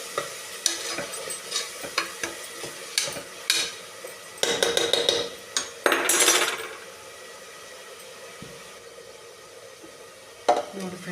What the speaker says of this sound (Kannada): ಹಸಿ ಅಂಶ ಏನಿರುತ್ತಲ್ಲ ಅದೊಂದು ಸ್ವಲ್ಪ ಹೋಗೋವರೆಗೂ ಫ್ರೈ ಮಾಡ್ಕೊಂಡಿರ್ತೀನಿ